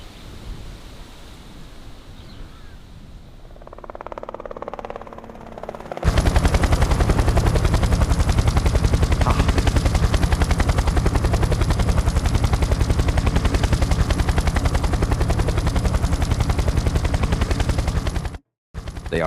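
After a muffled lead-in, a loud, rapid, relentless chopping drone starts abruptly and holds steady for a long stretch.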